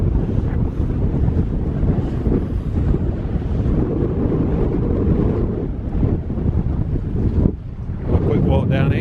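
Strong wind buffets the microphone on the coastal beach at Hunstanton, Norfolk, a loud continuous roar with gusty surges and a brief dip near the end.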